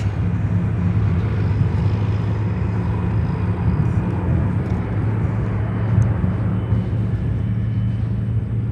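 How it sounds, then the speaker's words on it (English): A China Cargo Boeing 777 freighter jet at Chicago O'Hare airport, heard as a continuous, loud, low engine rumble and roar with no talking over it. "All right, let's get China Cargo 777 from Anchorage."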